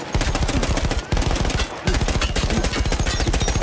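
A mounted machine gun in the World War I shooter Battlefield 1 fires long, rapid bursts with sharp, dense reports, pausing briefly twice before hammering on again, loud and close with no talk over it.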